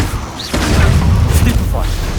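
A fire spell cast in Hogwarts Legacy bursts out with a rumbling, crackling whoosh that swells after a brief lull and sustains loudly for about two seconds, with spoken voices mixed underneath.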